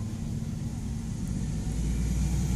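A loud truck rumbles nearby with a steady low drone that swells slightly toward the end, with no voices over it.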